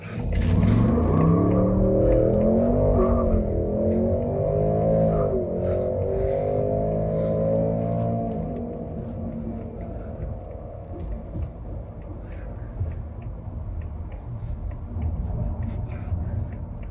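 A 2024 Ford Mustang GT with its V8 launching hard in drag strip mode, a loud, close engine roar rising through the gears with rhythmic shifts, then settling to a steadier drone after about eight seconds.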